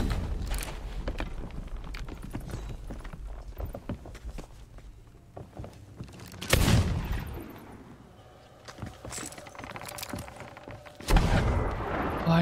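Gunfire in the pirate video game Sea of Thieves: a couple of loud, sharp blasts stand out over a busy backdrop of footsteps and game noise, with no talking.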